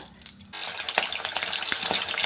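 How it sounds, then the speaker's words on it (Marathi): Long green chillies dropped into very hot oil for deep-frying, a quiet start bursting into a loud, close, crackling sizzle with sharp pops and spatters throughout. "आता या मिरच्या आपण तळून घेऊया"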